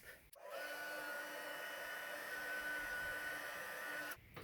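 A heat tool for heat embossing, melting embossing powder on a card, blowing with a steady, even hair-dryer-like whir for about four seconds, starting and stopping with sharp clicks.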